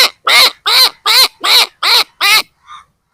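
A man imitates a duck, giving seven loud, evenly spaced nasal quacks close up, then two faint trailing ones.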